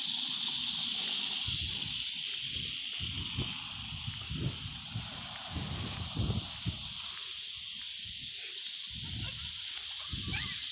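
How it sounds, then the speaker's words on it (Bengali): Water sprays onto grass and trees in a park in Madinah, Saudi Arabia, as a steady hiss that runs throughout, with low rumbling and gusty noise underneath. "দেখেন কি পরিমাণ পানি দেওয়া হচ্ছে"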